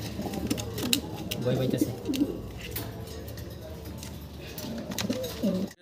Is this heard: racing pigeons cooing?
yes